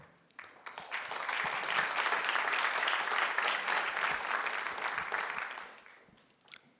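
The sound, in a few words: audience applause for award winners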